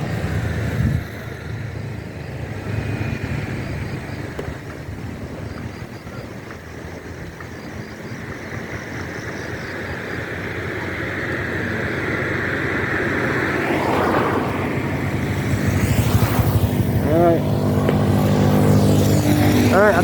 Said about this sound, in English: you see how busy the traffic is